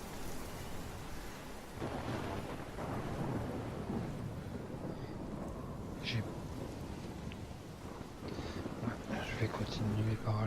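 A tornado storm in the game Life is Strange, steady rain with rolling thunder and rumbling gusts throughout, a few sharper crashes toward the end, and a voice talking over it.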